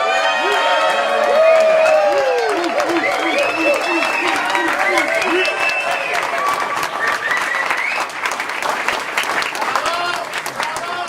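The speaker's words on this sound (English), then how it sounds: "let's give him a tremendous vocal round of applause" An audience greets an award recipient at the Bob Kohler VOCAL for Justice Award event with loud sustained applause, whoops and cheering shouts. A crowd fills the room and keeps clapping steadily throughout.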